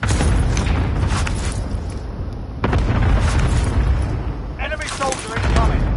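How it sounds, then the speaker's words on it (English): Airstrike explosions in Call of Duty Warzone, heavy booms and rumbling blasts landing in loud bursts around the player, with a short gap mid-way before another big hit and voices talking over the battle. "Airstrike target mark."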